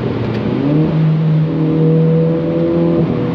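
Renault 4 RS Trophy engine pulling up through the revs after a downshift, a steady rising drone with climbing harmonics heard from inside the car, loud and continuous.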